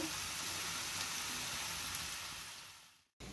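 Egg frying with water lily stems in a pan, a steady soft sizzle and crackle that runs quietly and evenly, then cuts out briefly near the end before resuming.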